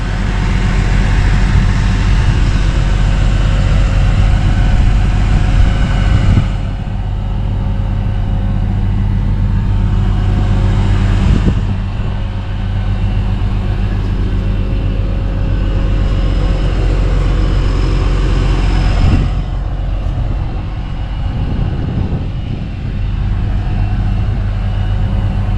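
Loud, constant engine drone of a tractor pulling a Buffalo cultivator through an organic corn field on weedy headlands, heard close up with a few shifts in load and tone.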